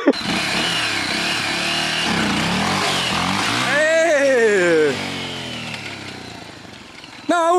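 Motorcycle engine revving hard several times, rising and falling in pitch with a loud whining climb near the middle, while people talk and shout encouragement over it.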